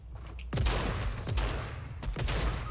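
Loud video-game gunfire in a battle royale match, with several sharp, close shotgun-like blasts spaced about a second apart over a busy background of game noise.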